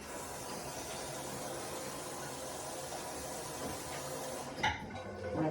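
A bathroom basin is rinsed out under running water, giving a steady, close hiss of spraying water that holds for several seconds before a brief clatter near the end.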